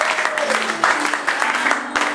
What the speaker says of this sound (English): Give a hand clap to the Lord,